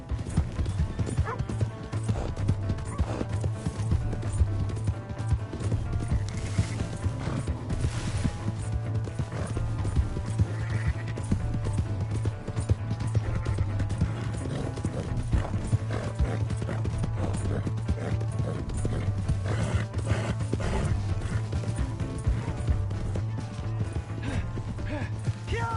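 Continuous pounding hoofbeats of a galloping horse, fast and steady throughout, with creaking tack and a faint whinny mixed into a dense, busy background.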